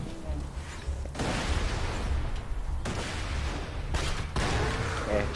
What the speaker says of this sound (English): Shooting all the barrels so Carlos can't?